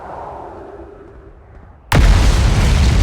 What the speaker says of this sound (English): I hear the explosions